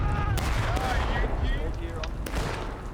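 A line of pistols fires during a cavalry charge at a Blue and Grey Civil War reenactment battle: scattered sharp distant cracks over a rumbling battlefield din, with people talking throughout.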